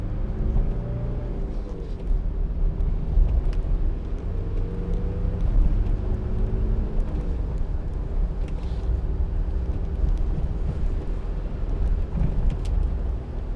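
Mitsubishi L200 2.5 TD double-cab pickup driving along a bumpy country lane with potholes, a steady low diesel drone and road rumble heard from inside the cab, continuous and fairly loud, with occasional faint knocks from the uneven surface.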